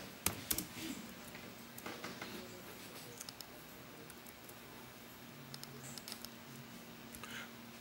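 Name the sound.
typing on a computer keyboard, pressing enter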